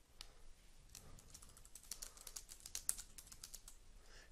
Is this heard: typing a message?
yes